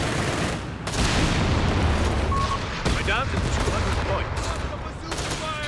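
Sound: bazooka fire against Panzer IV in Company of Heroes 3 video game

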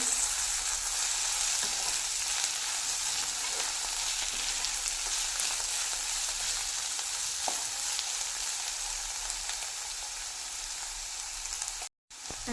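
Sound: ridge gourd frying and being stirred in pan

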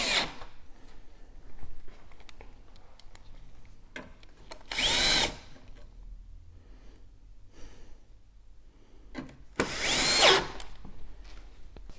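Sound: screwing screws back into oven with power screwdriver

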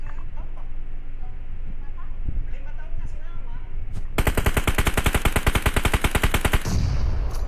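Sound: gunfire in the video game PUBG Mobile

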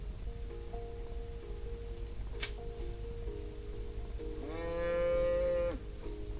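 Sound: cow mooing in Rising World video game

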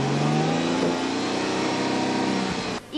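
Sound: luxury car engine revving

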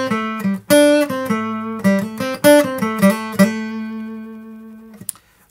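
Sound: acoustic guitar played with Flow pick

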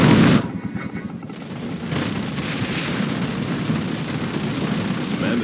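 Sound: gunfire in a video game

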